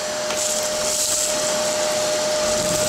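A vacuum cleaner runs steadily and close with a loud, constant motor whine and airy rush, holding a high tone throughout without pause.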